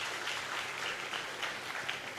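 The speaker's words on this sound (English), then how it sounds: "Clap for yourselves." A crowd applauds steadily at a gathering, a dense wash of many hands clapping at even loudness for about two seconds, with no talking over it.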